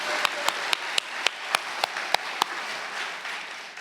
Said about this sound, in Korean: 우리 목사님께 다시 한번 감사의 박수 한번 드리겠습니다.